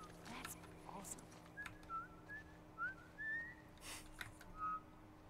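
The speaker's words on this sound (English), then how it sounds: "I'm whistling." A character in The Last of Us Part 1 whistles a run of short rising and sliding tones, soft and fairly close, against a low steady background hum.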